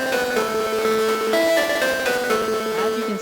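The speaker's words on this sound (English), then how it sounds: "I also put the Gross Beat preset Chaos 3 on it just to make the melody sound a bit more choppy" Bright trap synth melody chopped into stuttering, gated fragments by a Gross Beat Chaos 3 effect, a short repeating phrase with abrupt cuts, loud and alone.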